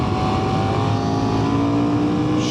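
A 2024 KTM 990 Duke motorcycle pulls hard in third gear on a rough country road, its engine a steady, loud, continuous roar with rising tone throughout, heard up close from the rider's position.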